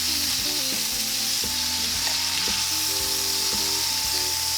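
Prime strip steak sizzles steadily in a hot pan, a loud, continuous frying hiss with no talking, while a faint tonal background runs underneath.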